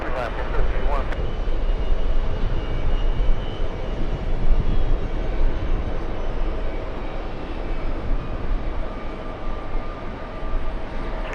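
An airplane flying in from the Bahamas produces a loud, continuous engine roar that holds steady and close, a broad rumbling drone without clear breaks.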